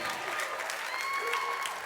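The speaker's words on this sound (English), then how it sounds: "give them just a huge hand clap tonight" Audience applause for interns at an evening service, a steady dense wash of hand clapping from a large indoor crowd, a few faint voices and whistles mixed in throughout.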